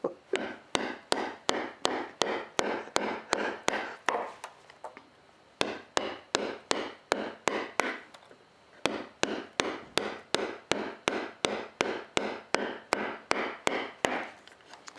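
Someone chops a wooden block with an axe, with around thirty steady, evenly paced strikes close by and one brief pause midway.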